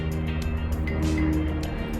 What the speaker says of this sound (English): The trash can truck just keeps driving back and forth on my street as if to ruin this video.